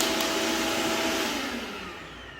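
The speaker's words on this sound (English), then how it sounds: "put the hose on there, and this thing becomes a mini blower" A RIDGID motor-on-bottom 12-gallon shop vac, model MOB1200, runs as a blower, making a loud steady whooshing roar that begins winding down toward the end.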